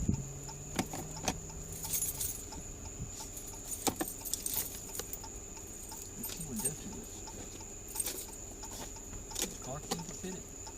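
Keys jangle in short metallic clinks and rattles at a traffic stop beside a car, with a steady high electronic whine and background vehicle noise throughout.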